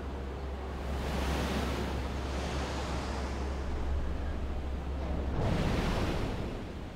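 Steady loud rush of flowing water after a sluice opens in the video game Resident Evil: Revelations 2, a continuous broadband surge that swells slightly near the end, heard alone without talk.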